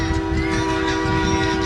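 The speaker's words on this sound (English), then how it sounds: "It's like a train horn, doesn't it?" A parade car's loud, sustained air horn blares like a train horn at a Christmas parade in Ocala, Marion County, a steady multi-tone blast held close and strong throughout.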